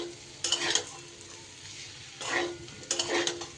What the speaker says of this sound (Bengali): ডাল মশলা সব একসাথে কষিয়ে নিয়েছি বন্ধুরা